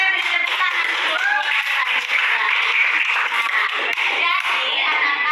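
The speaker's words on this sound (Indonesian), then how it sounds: "kita beri tepuk tangan dulu" Applause from a school class during a teacher's coaching session in Kupang: dense, steady clapping from many hands fills the whole stretch at an even level, with no pauses or talk.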